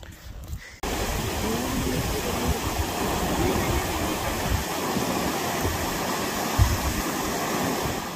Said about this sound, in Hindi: ज़्यादा तेज बहाव जो चल रहा है भागा नदी के अंदर चल रहा है